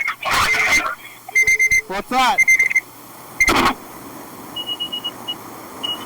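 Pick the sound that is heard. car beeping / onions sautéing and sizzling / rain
car beeping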